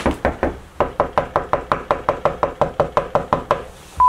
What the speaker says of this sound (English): knock and see.